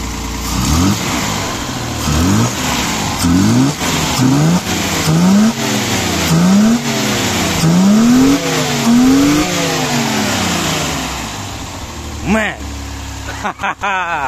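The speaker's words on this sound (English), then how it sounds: "engine is running pretty well no tuning done yet you can see the dual throttle body if I accelerate" A Mercedes W111 engine converted to EFI with a dual throttle body revs several times, each rise and fall in pitch distinct, then settles to a high idle near 1300 rpm. The engine is loud and close, and someone talks over it.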